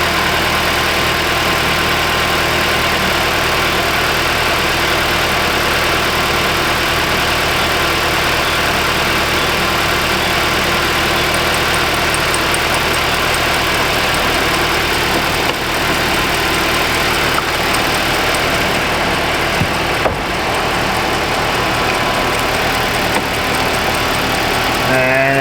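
A 2019 Mitsubishi Outlander Sport with a no-crank, battery-light fault idles steadily with no load, giving a loud, close, unbroken engine hum with faint vibration throughout.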